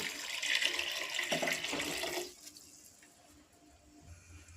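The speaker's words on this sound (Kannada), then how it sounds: "ಇವಾಗ ನೀರನ್ನು ಹಾಕೊಳ್ತಾ ಇದ್ದೀನಿ" Water poured into a pressure cooker over rice, lentils, tamarind juice and raw onion for bisi bele bath, a steady near splashing stream lasting about two seconds before stopping, leaving only faint room noise.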